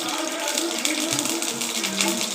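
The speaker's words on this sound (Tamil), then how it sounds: "எண்ணெய் ஊற்றிக்கலாம்." Cooking oil pours into a kadai for an egg and drumstick-leaf stir-fry, a steady liquid gush and splatter lasting a couple of seconds, close and fairly loud with no talk over it.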